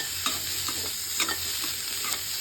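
Cauliflower fries in a pan with a continuous low sizzle and occasional soft scrapes of a spatula stirring the pieces, close and steady, with no voices.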